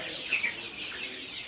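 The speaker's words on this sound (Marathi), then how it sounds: "तुम्ही बघू शकता हा आता जवळजवळ 3 महिन्याचा पक्षी होत आलेला आहे" A roughly three-month-old farm chicken clucks in a few short, close calls over a steady background hiss, with no one talking.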